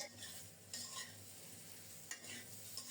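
Potatoes stirred and frying in a pan, a steady close sizzle broken by a few scraping stirs of the spoon, with no voices.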